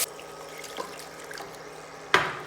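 Water is poured from a tap or jug into a flour roux in a pan while making mac and cheese, a steady splashing trickle with a sharper splash near the end.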